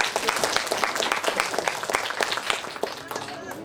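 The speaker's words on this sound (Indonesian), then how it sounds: "Tepuk tangan dulu." Applause from a school audience at a community youth event in East Lombok, Indonesia: steady dense clapping from many hands, fairly close and sustained, with some voices mixed in underneath.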